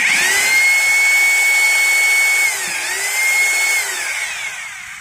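A Maktec MT870 rotary hammer under repair runs with a loud, steady high-pitched motor whine that dips briefly and then settles lower near the end, with no voices over it.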